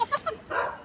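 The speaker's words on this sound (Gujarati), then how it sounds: "કાળું કૂતરું રોવે છે" A black dog whimpers and yips in a few short, rising cries, then lets out a longer whine, close by and fairly clear with no talk over it.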